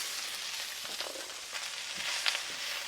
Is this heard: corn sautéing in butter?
yes